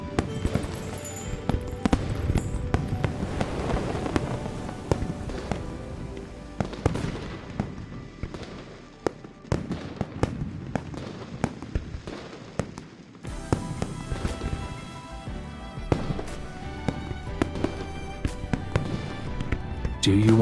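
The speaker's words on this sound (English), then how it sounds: "Do you want to set off fireworks in Hongling City?" Fireworks going off in Hongling City in the video game Rafayel: A Thought Across, a dense run of bursts and crackles layered over a steady musical bed for the whole stretch.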